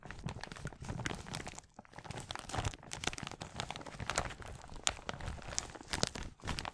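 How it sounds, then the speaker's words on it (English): Crinkly wet wipe packaging rustles and crackles close to the microphone in a steady stream of crisp, papery crunches with brief pauses, no voices. "when I opened it up and I heard it kind of crinkling in the microphone, the wipe"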